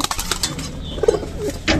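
Pigeons at a loft, a brief low coo mid-way among soft wing flutters and rustling, close and short, no speech.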